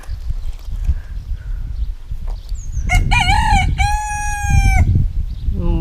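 A rooster crows nearby, loud and clear in a few drawn-out calls over outdoor wind and background rumble, with a short extra call at the end.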